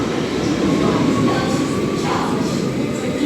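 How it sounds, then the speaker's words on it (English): Train noise inside Amsterdam Central station, a steady loud rumble and hiss of rail cars with faint murmuring voices in the background. "train is what I'm waiting for."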